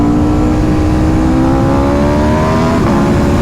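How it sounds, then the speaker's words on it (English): Aprilia RSV4 motorcycle, 2022, fitted with an Austin Racing exhaust, pulling hard at around 6,000 to 7,000 RPM with a steady rising engine drone, then a brief dip and crackle as it upshifts near the end. "you upshift, you hear a little pops, like a little spitting sound"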